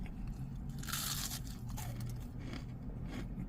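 Crispy Popeyes fried chicken being bitten and chewed up close, with loud crackling crunches that burst strongest early, then continue as softer chewing and crunching throughout, with no talking.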